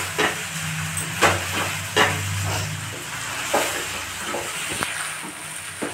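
Rice being stirred with ghee in a pan, a spoon scraping and knocking at irregular intervals over a steady soft sizzle and hiss, with a low hum in the first half.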